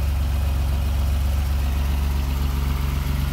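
A 1988 BMW E28 M5 with the M Sport straight-six, independent throttle bodies and a header, idling close by in a steady low, even rumble with a faint throb and no talk.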